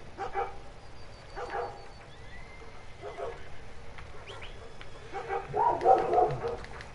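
Dog barking in Red Dead Redemption 2: several short, moderately loud bursts spaced across the scene, with soft ambient outdoor sounds and faint bird-like chirps in the background.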